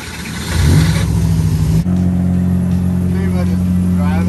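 A Mazda RX8 engine revs up sharply from near silence, then settles into a loud, steady drone as the car pulls away close by.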